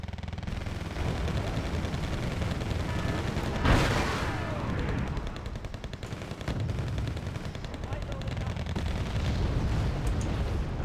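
Bombs and gunfire in the Cold War strategy game Wargame: Red Dragon, in a Second Korean War campaign battle: a steady roar of explosions and firing, with a sharp loud blast near the middle.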